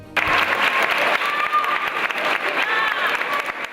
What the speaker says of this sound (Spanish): Aplausos y vítores para la patrona de Murcia, la Virgen de la Fuensanta.